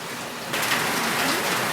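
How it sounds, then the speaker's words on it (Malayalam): Heavy rain pours steadily, a dense hiss that swells louder partway through and stays constant, with no voices. "ഇവിടെ ഭയങ്കര മഴയാണ്"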